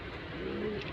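Pigeons cooing in their nest beside newly hatched eggs, a single soft, low coo heard close amid faint background noise.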